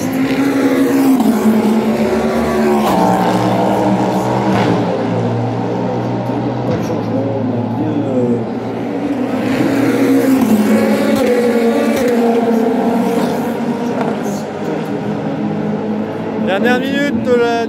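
An LMP2 prototype lapping the Le Mans circuit in practice, a continuous engine whine with shifting pitch as it accelerates and passes, heard beneath ongoing commentary.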